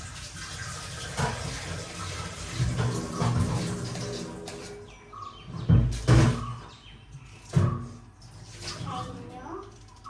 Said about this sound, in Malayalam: ജസ്റ്റ് കൈ കൊണ്ടൊന്ന് വെള്ളം ഒഴിച്ച് കളഞ്ഞാൽ മതി